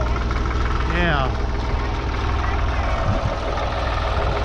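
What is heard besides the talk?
backhoe engine running before digging up garden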